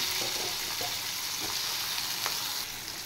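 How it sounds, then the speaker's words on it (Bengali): Chopped potatoes and onions fry in hot oil with a dense, even sizzle and a few faint scrapes of stirring, close and continuous without talk. "এবার আলু আর পেঁয়াজ আমি একসাথে ফ্রাই করে নেব"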